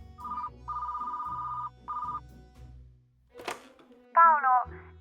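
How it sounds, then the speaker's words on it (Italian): A landline telephone rings in clear repeated electronic bursts, then a click and a short tonal beep follow as the call connects. "Sara chiama Paolo dal telefono fisso"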